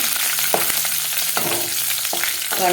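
Curry leaves and dried chilies fry in hot oil for tempering, a steady close sizzle with occasional stirring scrapes and crackles.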